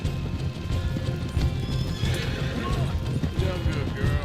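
In Red Dead Redemption 2, a horse gallops with rapid clip-clop hoofbeats and gives a whinny, close and prominent, with gunfire and other game sounds around it and voices talking.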